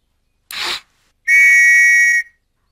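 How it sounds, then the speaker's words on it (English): A toy whistle sounds twice at close range: a short breathy puff, then a loud, steady shrill tone held for about a second. "What is it? A whistle."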